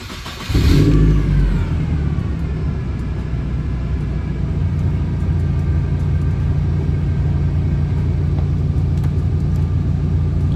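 A TDI diesel car engine revs in neutral with the e-brake on. A loud, close rumble swells sharply at first, then settles into a steady, sustained drone for the rest of the clip.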